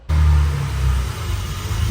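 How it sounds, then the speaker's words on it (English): A classic Mercedes 300 SL Roadster engine starts with a deep, loud rumble and keeps running with a low throaty hum as it pulls away nearby. "300 SL Roadster is moving out."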